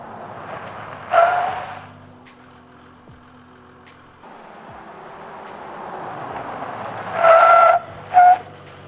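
A 4WD with upgraded brakes locks its front wheels during emergency brake tests, giving short tyre squeals at three moments over a steady engine and road hum.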